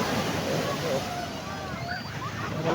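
Big surfing-size ocean waves roll and wash continuously on a water-only shore with no sand, under steady wind rumble and broadband surf noise, with faint distant voices.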